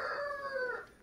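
A young rooster with a hoarse, husky voice gives one strained crow, loud and close, trailing off near the end.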